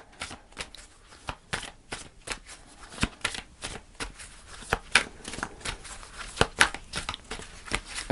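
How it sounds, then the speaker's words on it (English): Tarot cards are shuffled by hand in a steady run of crisp, flapping riffles and slaps, close and fairly loud, before a final card is pulled. "So I'm going to pull the final card."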